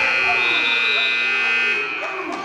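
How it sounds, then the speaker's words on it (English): A loud, sustained electronic buzzer sounds at a varsity high school wrestling match, a steady harsh tone holding for about two seconds before fading, with a commentator's voice and gym noise underneath. "the buzzer sounded just as they got there"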